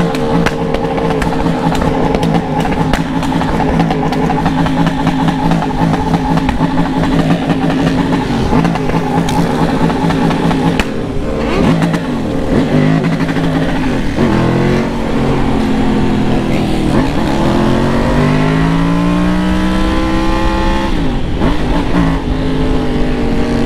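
A convoy of over 300 motorcycles accelerating, engines revving continuously and loudly with rising and falling pitch sweeps as bikes pass close by, no voices over the roar.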